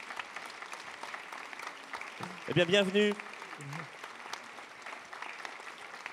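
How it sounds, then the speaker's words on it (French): A conference audience applauds arriving guests in a room with a continuous patter of clapping, fairly soft and steady throughout, while someone speaks briefly into a microphone partway through. "Je crois qu'on peut les applaudir."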